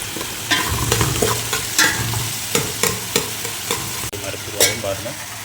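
Three onions frying in a pan for a village-style fish curry with tamarind, sizzling steadily up close while a spoon stirs and scrapes in repeated sharp knocks.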